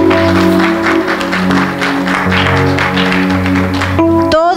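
A church congregation claps together during a sermon service, dense steady applause with sustained organ or keyboard chords underneath, ending abruptly near the close.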